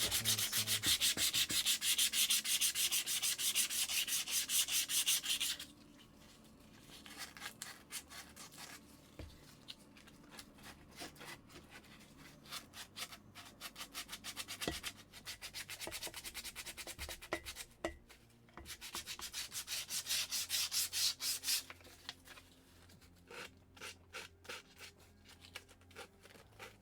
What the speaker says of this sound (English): you still end up having to do a lot of hand sanding with these things